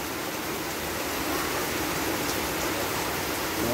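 Heavy rain in cold, windy winter weather over farmland, a dense steady hiss of rainfall with no pauses and no voices.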